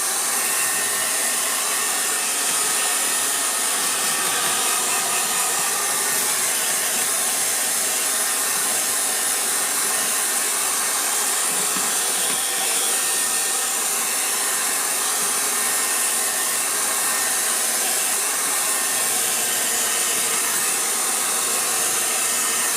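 Affordable hair blower running continuously at close range, a loud, steady airy whoosh with a motor whine, no talking.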